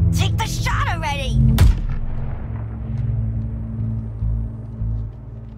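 Video game gunfire: a sharp shot cracks out amid character dialogue, followed by a deep rumbling tail as game voices and effects continue underneath.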